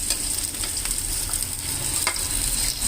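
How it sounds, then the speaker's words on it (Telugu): Ingredients for corn rava upma sizzle steadily in hot oil, a dense continuous frying crackle with occasional sharper pops, close and fairly loud with no talk. "ఇవి ఒక టూ మినిట్స్ వేగనిద్దాం"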